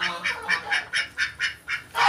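Itik ducks or geese on a poultry farm honk in a steady, evenly spaced series of about eight loud, nasal calls, close by and alone.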